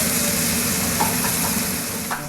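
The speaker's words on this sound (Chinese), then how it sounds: "平底锅煎牛排不再是高大上的西式餐点" Steak pan-frying in a skillet at a restaurant in the historic Twin Oaks residence, a steady broadband sizzle holding throughout with a few faint clinks near the end.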